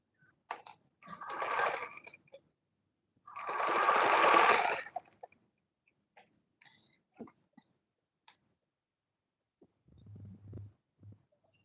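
A sewing machine stitches Ankara fabric to its lining along a gown's shoulder line in two short, close bursts of whirring about a second long each, separated by quiet, followed later by a faint low hum.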